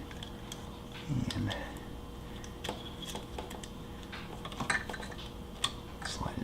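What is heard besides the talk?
loosening a piston ring compressor, Porsche 912 engine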